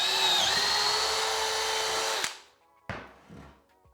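Power drill boring a 10 mm hole into wood, a loud steady whine for about two seconds that stops abruptly, followed by a few short bursts of the bit spinning down and pulling free.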